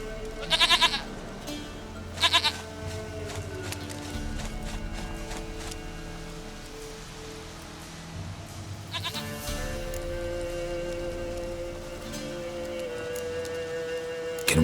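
Goat bleats in The Witcher 3 on Xbox Series X: two sharp, loud cries near the start, then a long stretch of sustained tonal ambience and game music with faint hoof clip-clop.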